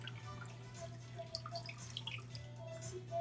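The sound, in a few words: pouring lemonade into a drink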